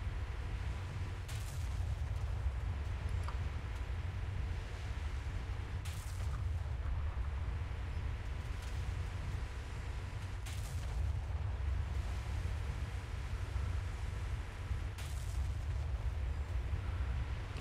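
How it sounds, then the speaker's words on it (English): Naval guns firing armor-piercing shells in a video game, heavy booms recurring every few seconds over a constant loud low rumble of engine and sea noise. "Opening fire with armor piercing."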